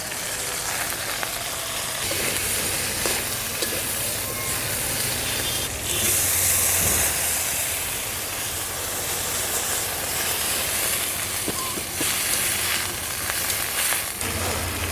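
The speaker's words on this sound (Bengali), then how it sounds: "শুটকি একটু হালকা তেলে ভেজে তারপরে মশলা দিয়ে দিব" Dry fish fries in a little oil, a constant loud hissing sizzle that runs unbroken throughout, with no voices.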